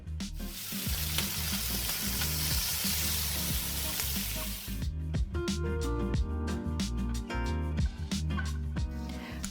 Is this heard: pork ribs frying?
yes